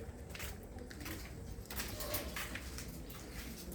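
A prize-winning racing pigeon hen and her loft mates coo softly within a busy, noisy outdoor ambience, with a louder rustling burst partway through.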